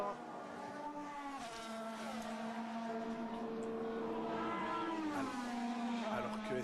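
Esteban Ocon's Alpine Formula 1 car at the Italian Grand Prix practice session, a high engine whine shifting pitch as it crosses the line, heard at a distance beneath continuous commentary.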